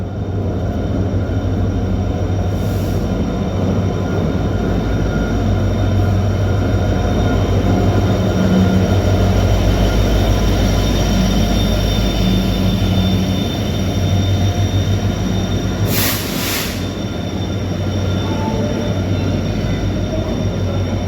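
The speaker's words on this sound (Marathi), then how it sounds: "तर मित्रांनो, ऑन टाईम आपली ट्रेन आलेली आहे प्लॅटफॉर्म नंबर 1 वरती।" The Poorna Express, with new LHB coaches, arrives at platform 1 of Pune Junction, a loud continuous rumble of rolling coaches sustained for about twenty seconds, with a couple of brief hissing bursts and no talk.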